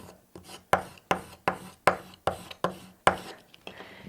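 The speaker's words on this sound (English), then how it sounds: "Now we're going to add this to our Merry Christmas, and we're going to burnish this down." Vinyl is burnished down onto a Cricut-made Christmas gift tag, making about ten crisp, evenly spaced rubbing strokes, close and fairly quiet, each a short scrape that quickly fades.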